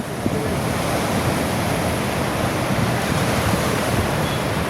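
Sea waves at Banganga, a continuous loud roar of surf with wind buffeting the microphone, no voices.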